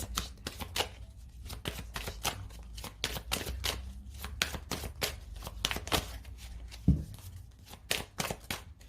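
Oracle cards are shuffled by hand for a long stretch, with rapid crisp riffling bursts repeating in an uneven rhythm, close and fairly quiet, and nobody speaks.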